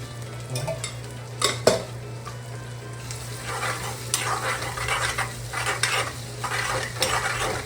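Ginger and garlic sautéing in oil in a pan for masala pasta, a steady close sizzle with repeated scraping stirs of a spoon against the pan, alone with no talk.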